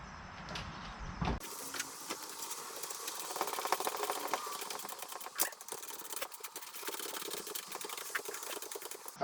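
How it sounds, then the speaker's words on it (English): A small ratchet with an 8 mm socket tightening nuts into plastic trim on the front end of a Can-Am Ryker, giving a rapid, continuous close clicking that runs throughout after a brief opening sound, with no talk. "We're using an 8 millimeter socket to tighten these up."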